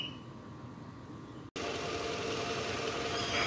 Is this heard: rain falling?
no